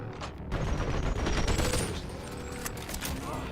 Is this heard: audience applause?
no